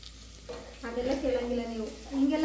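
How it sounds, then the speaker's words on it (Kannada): Food fries in a pan at home, a soft steady sizzle with stirring scrapes, partly under a voice speaking nearby. "ಅವಾಗ್ಲಿಂದ ಫ್ರೈ ಮಾಡ್ತಿದ್ದಾಳೆ"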